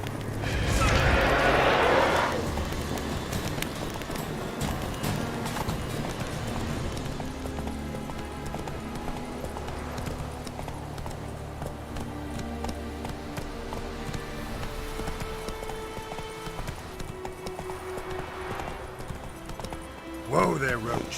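Roach, the horse in The Witcher 3, trots with steady clip-clop hoofbeats and a burst of movement at the start, with a voice speaking over game music throughout.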